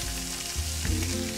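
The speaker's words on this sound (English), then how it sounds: "So as you can hear, nice sizzle, lightly browned on both sides and seasoned on both sides." Rabbit pieces sizzle and brown in a hot frying pan, a bright crackling hiss with a low rumble and brief shifts as the meat is moved, close and clear with no speech.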